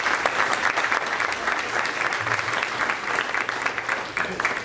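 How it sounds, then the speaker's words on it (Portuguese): A hypnosis show audience breaks into loud, sustained applause, dense and steady clapping filling the room from start to finish with a faint murmur underneath. "Salve de palmas para os nossos astros."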